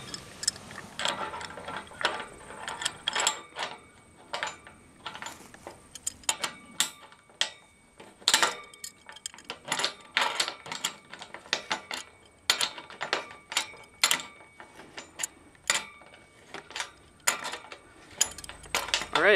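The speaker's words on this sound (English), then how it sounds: "We're raising and lowering the tower." Repeated ratchet-and-pawl clicking comes from a ratchet working while a Bergey Excel 1 guyed tilt-up tower, 80 ft tall, is raised or lowered with a gin pole. The sharp clicks arrive in irregular bursts throughout, close and fairly loud, with no talking.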